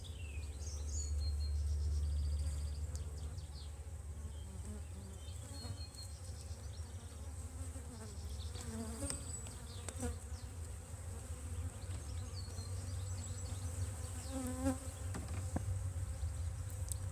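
Honey bees buzz steadily at an open overwintered brood-and-a-half hive during an inspection, a continuous close, moderate drone with faint birdsong in the background and no talking.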